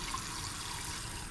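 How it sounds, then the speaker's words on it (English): Warm water runs steadily from a tap for bathing Persian kittens, a continuous close rushing flow with no voices over it. "You want the water to feel just a little bit warm on your skin"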